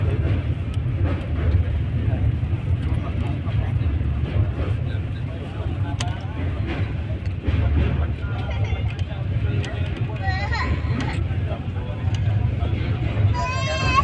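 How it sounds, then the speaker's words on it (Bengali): A train crossing a bridge rumbles continuously with a deep, steady roar and rattling, while people's voices murmur in the background. "একটা ব্রিজ পার হচ্ছে"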